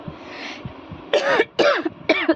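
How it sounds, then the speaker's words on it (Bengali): Three harsh coughing bursts from a woman with a fish bone stuck in her throat, spaced about half a second apart and loud and close after a quieter stretch. "কাশি হচ্ছে আমার কথা বলতে বলতে"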